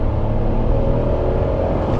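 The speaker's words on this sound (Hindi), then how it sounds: "हर गियर में पावर है, काफ़ी अच्छा पुल करती है ये गाड़ी" A Tata Punch turbo car under acceleration on the road, a loud, steady engine drone with an even low rumble and a held tone throughout, with no talking.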